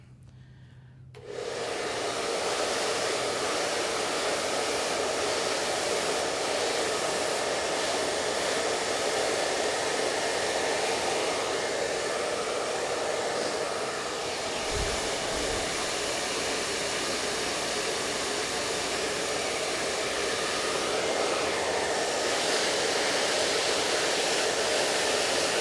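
A hair dryer runs steadily and loudly throughout while blow-drying hair for volume, a constant close airy roar with no talking.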